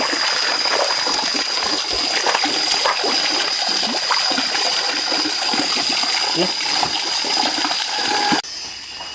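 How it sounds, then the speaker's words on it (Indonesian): Steady rushing flow of water, a continuous broadband wash with splashy texture at close range, while a voice speaks briefly over it near the end. "Air mengalir."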